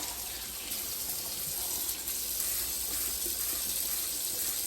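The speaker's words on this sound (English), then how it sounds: "I'll get them plenty wet." Running tap water steadily wets a pair of beekeeping gloves in a sink, a continuous close hiss and splash with no talk.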